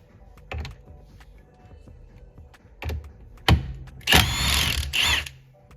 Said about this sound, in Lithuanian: turim vieną varžtą, kurį atsisuksim su šešiakampiu